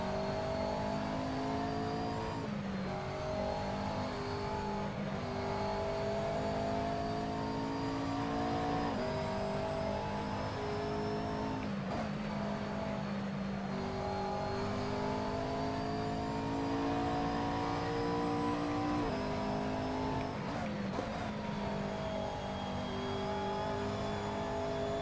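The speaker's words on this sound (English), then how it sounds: "It's a car rejoining in front." Race car engines in a sim racing game drone loudly and continuously, with gear changes and rising revs repeating every few seconds as the car accelerates through a lap.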